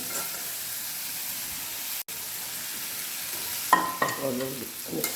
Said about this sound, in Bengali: আর একটু হালকা কষিয়ে দেব